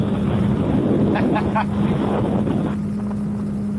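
Strong wind roaring through an opened motorcycle helmet visor while riding at speed, a loud, steady rush with a constant engine drone underneath.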